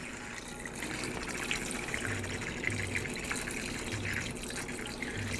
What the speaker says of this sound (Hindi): तो ये देखिए मैं डाल रहा हूँ उसके अंदर पानी।